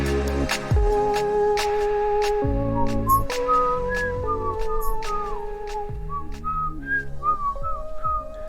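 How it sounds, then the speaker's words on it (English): A person whistling a Christmas song along with music, clear melodic whistled phrases riding over a backing track with steady bass and percussion, fairly loud and close. "you just caught me singing and whistling along to the Christmas number one"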